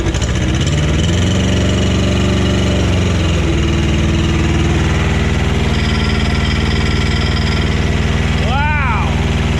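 A Cub Cadet 128 diesel garden tractor engine runs loud and close, a steady throbbing idle that shifts in pitch early on as the throttle changes, then holds an even drone.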